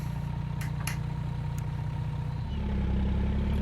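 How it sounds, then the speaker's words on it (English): Kenworth W900A truck engine in American Truck Simulator, a steady deep idle with a low rumble that swells louder and heavier toward the end, with no talking. "Get the windows down, actually, to hear this gorgeous, gorgeous engine"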